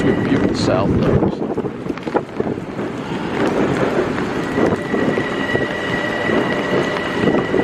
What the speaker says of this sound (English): Comes another train coming in, it's going to ruin our view.